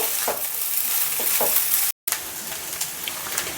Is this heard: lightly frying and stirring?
yes